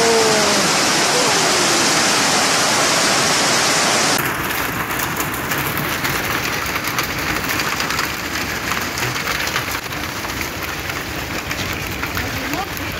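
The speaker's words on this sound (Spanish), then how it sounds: "mira cómo cae los granizos" Hail falling in Linares during a storm, a dense, loud, continuous hiss and clatter of ice pellets striking the ground and surfaces, steady throughout, with a reporter talking over it.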